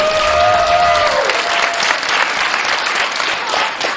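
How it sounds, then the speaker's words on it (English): Dense, steady applause from a crowd of children and adults at a junior football club meet-the-manager event, sustained and loud throughout with a few cheers and whistles rising over the clapping. "can I just have a big round of applause for first Johnnie Jackson"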